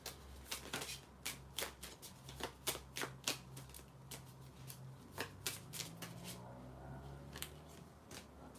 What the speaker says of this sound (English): next I'm moving on to some oracle cards.